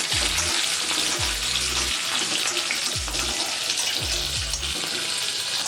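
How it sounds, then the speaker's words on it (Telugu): Small peeled onions fry in a pan with a loud, steady hiss, while several low rumbling thumps recur at intervals beneath the sizzle. "చిన్న ఉల్లిపాయలు ఒలిసి పెట్టుకున్నాం కదండి, అవి వేసుకోవాలి. బాగా వేగాలి ఇవి"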